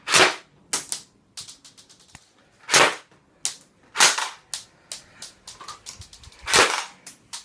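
An airsoft M4A1 rifle fires at a cardboard target, sharp loud snapping shots, some single and some in quick irregular clusters, close by with no talking.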